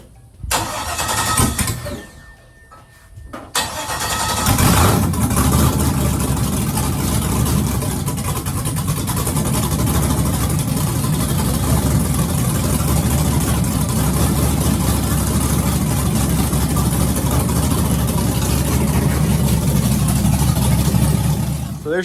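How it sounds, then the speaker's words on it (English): A 1000hp LS-swapped Mazda RX-7 cranks briefly, then fires on a cold start and settles into a loud, steady, rumbling idle close by. "I'll give you all guys a fresh cold start and we'll see how she runs."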